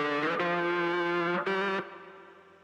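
A sustained synth-like tone heavily saturated and distorted, buzzing with a brief glitchy cut midway, then fading out with a reverberant tail.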